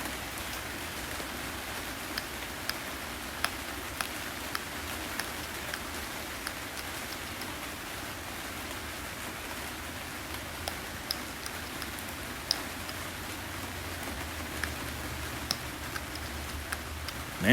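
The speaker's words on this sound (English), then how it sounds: "Man, it's really raining out here." Steady outdoor rain hisses evenly and softly for the whole stretch, with scattered faint ticks of drops striking nearby surfaces and no voices.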